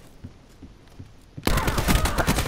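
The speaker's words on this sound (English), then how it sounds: "Just gonna be able to give a little hip fire." Hip-fire gunshots in Call of Duty Black Ops 4 multiplayer erupt suddenly after a quiet stretch, a loud, dense rapid burst of automatic fire that continues to the end.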